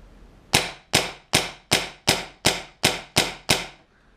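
Nine sharp, evenly spaced shots from an Empire BT Dfender high-power air gun crack out about every 0.4 seconds, each loud, close and decaying quickly, with no talk between them.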